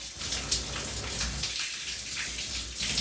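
A shower runs at night, water spraying and splashing in a steady hiss with irregular droplet patter, fairly close and without talk.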